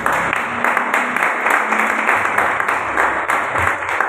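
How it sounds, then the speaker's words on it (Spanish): A church congregation applauding during a Spanish-language worship service, steady sustained clapping from many people filling the room with no break. "Denle un aplauso al Señor."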